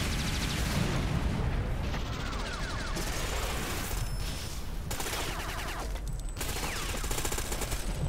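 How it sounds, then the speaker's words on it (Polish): Grenade blasts and heavy gunfire fill a firefight in the shooter Ghost Recon Phantoms, with continuous loud rattling bursts and booming explosions stacked close together across the whole stretch. "Wow, granat."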